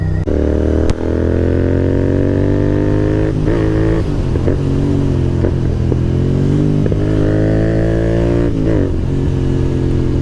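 A 650 motorcycle fitted with a Red Rooster exhaust runs at a steady, deep, loud drone while riding, with the engine note rising and easing several times as the throttle changes.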